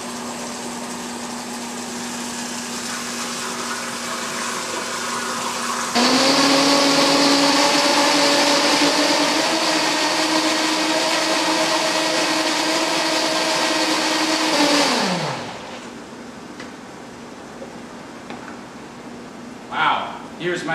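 A MX1200XTX variable speed blender whirs at low pitch, then jumps to a loud, steady high-power roar as heavy cream is blended into ganache, before spinning down and stopping, leaving quiet kitchen clatter.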